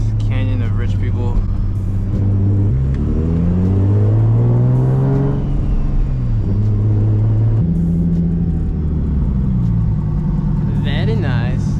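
A big-turbo Nissan 350Z is driven at night through a canyon road, its engine rumbling and revving up and down through gear changes, close and loud, with someone talking over it and turbo whooshes near the end.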